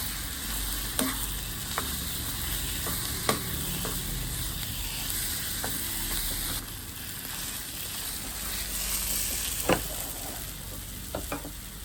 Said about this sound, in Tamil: முழுக்க போட்டு கிளறுவோம்.